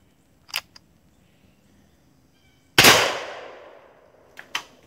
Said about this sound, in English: that definitely was a chain fire